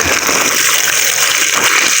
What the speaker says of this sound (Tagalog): So ayan po yung ating tubig.